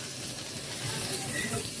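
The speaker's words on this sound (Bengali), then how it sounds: "মাছ ভাজা শেষ, এখন এই যে ভেন্ডি বেজে নিতেছে।" Okra (bhindi) frying in a pan in a home kitchen, right after fish was fried, gives a steady, even sizzling hiss that runs unbroken at moderate level.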